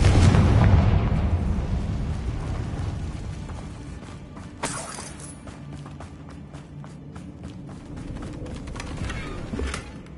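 Confringo fire-blast spell in Hogwarts Legacy, a heavy booming explosion at the start that rumbles and decays, followed by smaller bursts and crackling pops, loud and close.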